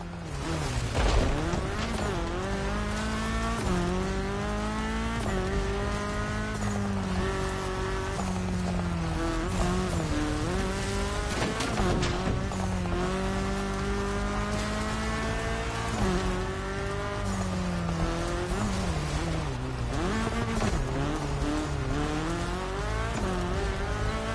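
A car races fast down a mountain descent in the video game The Crew Motorfest, its loud engine droning steadily, with pitch swooping up and down through revs and gear shifts throughout.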